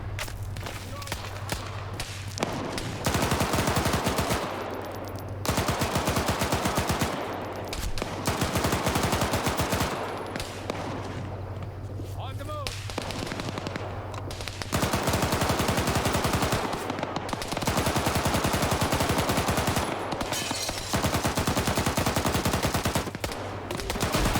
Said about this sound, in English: I think the HEDP guy is firing now because someone's on a Dishka